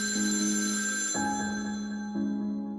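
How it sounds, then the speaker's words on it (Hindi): A telephone rings with a steady electronic bell tone in repeating bursts, fairly loud and close, with no voices. "अब अगले दिन 5 फरवरी को जोसेफ का फादर पैट्रिक उसे फोन करता है"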